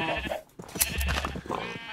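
A domesticated sheep in the Minecraft video game bleats, a clear, fairly loud wavering cry that lasts most of the two seconds.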